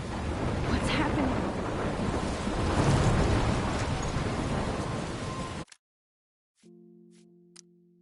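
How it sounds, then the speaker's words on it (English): Thunderstorm in Life is Strange: dense, roaring rain and rumbling thunder that swell and churn for several seconds, then cut off abruptly into near silence before a low hum and a voice come in. "I'm trapped in a storm?"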